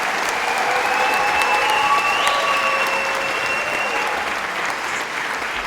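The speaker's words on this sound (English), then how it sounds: "please bring in another huge round of applause for these outstanding student leaders" A large crowd at a Strut For The Cure charity event gives sustained applause for student leaders, a dense, loud wash of clapping with faint cheers that holds steady throughout.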